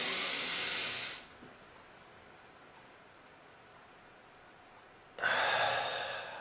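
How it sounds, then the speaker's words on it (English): A massive deep breath drawn in and then let out passively, heard as two loud, broad airy rushes, one at the start and one near the end, with a quiet pause between them. "all you need to do is take a massive breath in"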